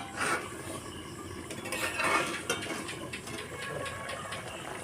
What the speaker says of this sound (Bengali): এখন আমি ঢাকনাটা খুলে দেখে নেব আমার জলটা কতটা শুকিয়েছে।